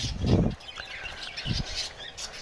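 Pet lovebirds chirp faintly at a village bird market, with a few soft, scattered calls and no voices.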